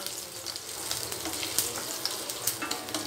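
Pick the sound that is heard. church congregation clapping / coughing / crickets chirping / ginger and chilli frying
ginger and chilli frying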